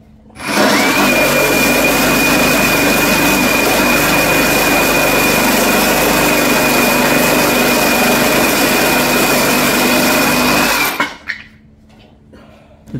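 A reciprocating saw cuts through nails in wood in one long continuous run, a loud steady high-pitched whine that starts abruptly, holds for about ten seconds, then stops and winds down.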